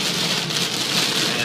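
Heavy rain pours down hard beside a quiet roadside during a storm, a dense, steady hiss that fills the whole moment with no voices.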